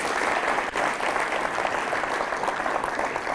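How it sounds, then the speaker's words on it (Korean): An audience claps for a conductor at a classical music forum, a dense, even wash of applause that holds steady throughout without any talk. "그래서 수시로 제가 인사하면 이렇게 박수를 쳐주시면 되는 겁니다"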